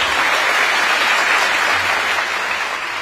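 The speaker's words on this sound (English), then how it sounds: "Let's give him another big applause of love. Let's clap for him." A university graduation ceremony audience applauds steadily in a large space, a dense, loud wash of clapping that holds for about three seconds and eases slightly at the end, with no voices over it.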